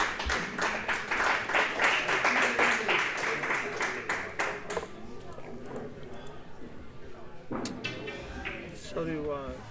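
Audience applause at a pool tournament final, a dense burst of clapping that is loud for the first few seconds and then thins into scattered claps. Voices murmur quietly under it.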